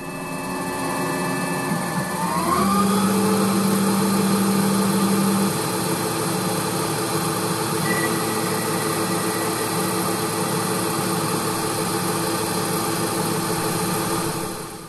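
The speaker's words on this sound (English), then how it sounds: "I bought some cheap aluminum round bar to do all my test cutting in" A CNC lathe turning a cheap aluminum round bar, a steady machine hum with high tonal whine throughout, a pitch sweep near the start before settling into a sustained cutting drone, close and moderately loud.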